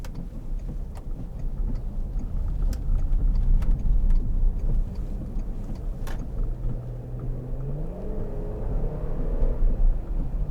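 A 2003 Volkswagen Touareg 3.2 V6 kicking down under acceleration, a steady low engine drone heard from inside the cabin with road noise and a few clicks, the engine note rising in pitch toward the end.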